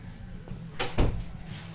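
An indoor room door pushed shut at home, giving a single soft thud with a brief latch click, fairly near, against a quiet household background.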